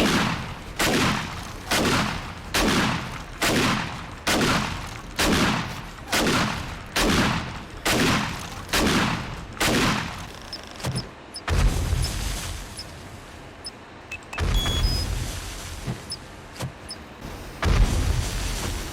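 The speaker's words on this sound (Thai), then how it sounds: "เอาปืนลูกซองค่ะ ยิงทำลายฐานด้านล่างค่ะ" Repeated shotgun blasts in the video game 7 Days to Die, fired to destroy a base: about a dozen loud, evenly spaced booming shots, then heavier crashing impacts and debris rumbling as the structure breaks apart.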